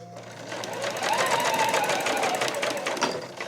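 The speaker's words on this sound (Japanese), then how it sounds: "このまままっすぐ進んで縫っていきます" A sewing machine stitches fabric in a straight line for a frilled scrunchie, a steady close whir that runs unbroken for a few seconds.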